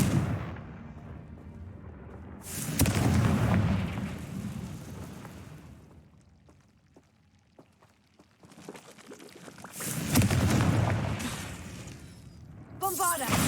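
Confringo blasting spells burst in Hogwarts Legacy, two loud crackling explosions with debris-like rumble separated by a quieter stretch, plus a sharp final blast at the end.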